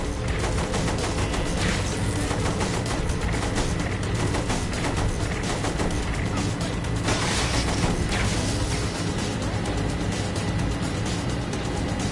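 Continuous dense gunfire from a machine gun in the video game Saints Row 3 Remastered, loud rapid bursts mixed with crashes and vehicle noise for the whole stretch, no pauses.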